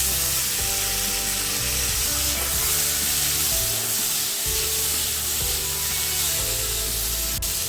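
Loud, continuous sizzling as cut potatoes are added to fried onions in a pan, a dense hiss with a low rumble underneath and occasional stirring.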